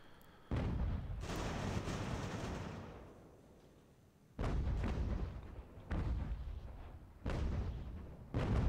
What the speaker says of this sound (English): All right, artillery, shoot at whoever you want to shoot at at this point.